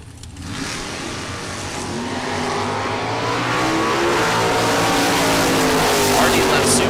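Two drag-racing Camaros, a 1969 and a 1970 with a Brodix 415 cubic inch motor, launching side by side at the strip: a dense engine roar that swells steadily and holds loud to the end, with race commentary talking over it.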